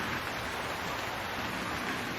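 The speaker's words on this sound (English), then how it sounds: "It's raining." Rain falls as a steady, even hiss of dense patter that stays constant throughout, with no voices or other distinct sounds over it.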